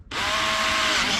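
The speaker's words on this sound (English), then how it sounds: "And I'm just gonna drill a hole" A handheld power drill boring a hole during a do-it-yourself car oil change, starting abruptly and holding a loud, steady high whine close by for the full burst, with no speech.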